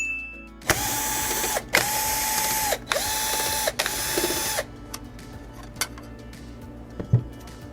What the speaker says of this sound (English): So we'll remove these screws in the front.